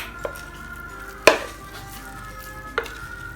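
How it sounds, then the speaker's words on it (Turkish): Döner meat is emptied out onto plastic stretch film, with three soft thuds and light clatters over a faint room background, the middle one loudest. "Böyle dönerimin tümünü buraya boşaltıyorum."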